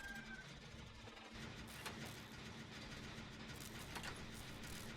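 A generator being repaired in the Dead by Daylight video game gives off a steady mechanical engine-like drone with faint clanks, holding constant throughout at moderate level with no voices.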